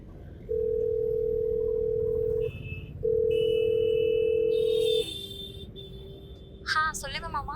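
A telephone ringback tone sounds as a call is placed, two long steady tones with a pause between them, each loud and alone, then a faint beep and a brief voice at the end.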